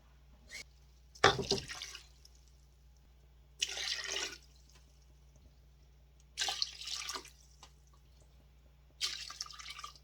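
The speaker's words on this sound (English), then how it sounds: "Now I'm gonna add 4 cups of water" Water splashes and pours into a cooking pot in four separate bursts, each a second or so long, with quiet pauses and a low hum between them.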